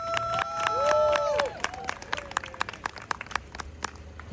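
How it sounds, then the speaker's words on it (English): An audience at a DC teacher festival applauds educators with scattered, sharp claps that pick up as a speaking voice finishes, then continue in an uneven patter of moderate loudness. "Round of applause for all of those educators."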